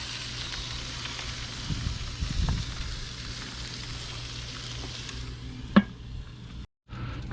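Baby back ribs sizzle on a Weber Q grill fitted with a heat shield, a steady crackling fry close by, with a few sharper pops and clicks near the end.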